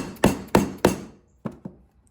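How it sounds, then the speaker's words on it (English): Hammer blows drive a Briggs oil seal into place on a riding mower: three loud, evenly spaced strikes, then a pause and two lighter taps, close up with no talking. "Take your time as you whack it."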